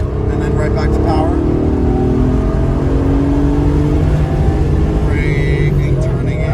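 A race car at a Lime Rock autocross accelerates hard out of a turn. The engine note is loud and rising, with revving harmonics that climb in pitch, and a voice speaks over it.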